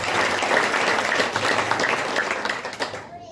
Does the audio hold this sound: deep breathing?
no